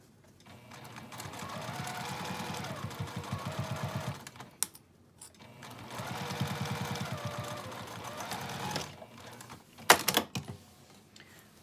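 A sewing machine stitches an apron pocket seam in two steady runs of rapid mechanical chatter, each several seconds long, close by with short pauses and a few clicks between them.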